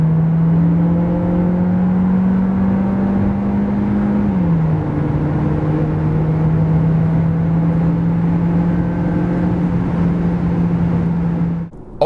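Skoda Octavia Kombi estate with a 1.5 TSI mild-hybrid petrol engine accelerating, a steady engine drone rising in pitch, dipping briefly at a gear change, then climbing again, heard from inside the cabin without talk.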